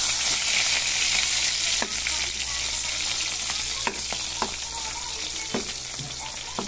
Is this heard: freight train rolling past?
no